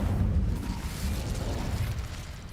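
The Incendio fire spell cast in Hogwarts Legacy, heard as a steady, loud, rumbling roar of flame with a dense low crackle that holds for a couple of seconds and eases off slightly.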